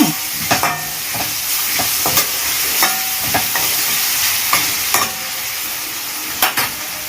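Tomato and ginger paste frying in a pan while being stirred for a chicken fry: a continuous loud sizzle broken by frequent sharp clinks and scrapes of the spoon on metal, close up, with no voices.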